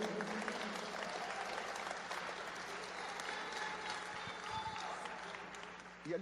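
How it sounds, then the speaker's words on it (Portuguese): A church congregation applauding together, sustained dense clapping that carries on throughout at a moderate distance, with a voice faintly present beneath it. "pode aplaudir, para a glória do Senhor"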